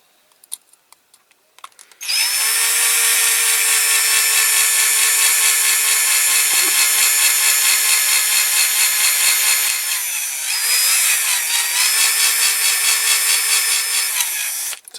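A power drill bores into a Dinky Toys Cunningham C-5R die-cast model, a loud, steady, high whine that starts abruptly after a few soft clicks, dips and wavers briefly near the end, then holds until the clip ends.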